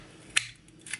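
A blade snips through a thin foamiran foam sheet while crafting gypsophila flowers: one sharp crisp cut, then a second fainter snip, close and quiet.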